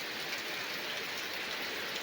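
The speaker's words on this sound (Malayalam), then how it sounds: "നല്ല മഴ" Heavy rain falls steadily in a dense, even hiss that fills the whole stretch, close and constant, with no voices over it.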